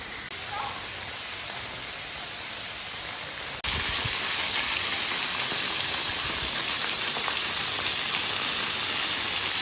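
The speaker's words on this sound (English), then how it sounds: "Did you know that there were waterfalls in Illinois?" A waterfall in an Illinois canyon gives a steady, hissing broadband roar of falling water that jumps suddenly louder and fuller a few seconds in, then holds constant and close.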